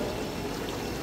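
Thick, dirty oil sludge pours out of an engine that burns four litres of oil every 300 kilometres, a steady close gurgling flow with no talk.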